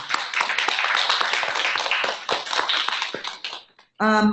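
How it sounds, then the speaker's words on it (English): Applause from a panel audience at a healthcare event, honoring a committee: dense clapping that fills the room for about four seconds, then breaks off briefly before a final short burst. "give you a round of applause for everything that"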